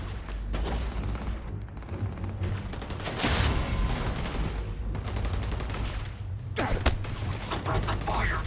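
Sustained gunfire in the Starfield video game, rapid bursts of automatic fire and overlapping shots in a dense firefight, loud and close with brief gaps between volleys.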